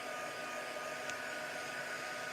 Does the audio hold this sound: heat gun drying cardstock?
yes